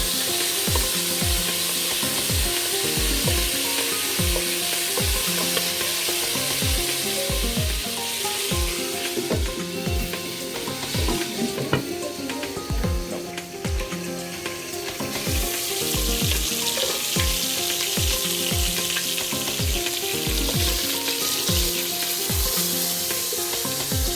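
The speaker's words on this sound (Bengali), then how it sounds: "মুরগিটা সুন্দর করে ভাজতে হবে" Chicken pieces for a chicken roast fry in hot oil with a steady, loud sizzle, broken by regular stirring knocks and scrapes in the pan throughout.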